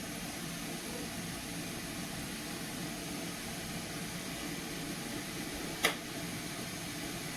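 A Jetboil camping stove roars steadily while it brings water to a boil. The broad, even hiss has a jet-like character, stays faint and constant throughout, and is broken by one brief click near the end.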